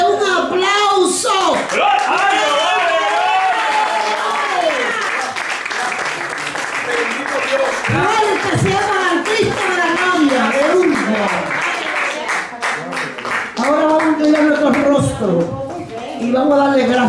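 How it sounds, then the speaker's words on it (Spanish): A church congregation claps and cheers during a Spanish-language worship service, with loud, sustained applause that swells and dips over many seconds while voices call out through it. "Que se merece un aplauso."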